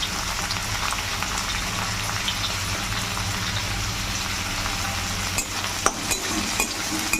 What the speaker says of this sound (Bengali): যেহেতু মাশরুমের পরিমাণটা অল্প, সব একসঙ্গে ভালো করে ভেজে নেবো।